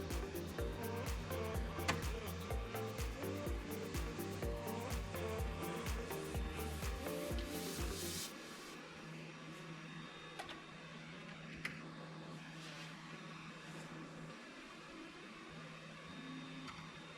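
A vintage PC hard drive reads data while Wing Commander 3 loads, giving a steady mechanical whir with rapid clicking seek chatter that is busy at first, then settles into a quieter hum with occasional ticks.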